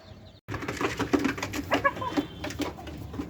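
Chickens inside a hen house shared by laying hens, a layer hen and a tiger hen, giving soft coos and clucks in a busy, close cluster of calls after a brief quiet start, with no talking.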